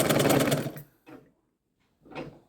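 A sewing machine stitches along the lining of a blouse in a quick, rattling burst, then stops and gives two shorter runs separated by pauses, close and alone.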